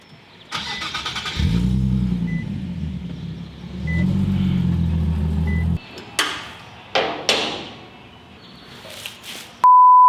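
A car engine on a dyno drones steadily at low pitch for several seconds, then cuts out, followed by a few sharp revving bursts and a closing beep.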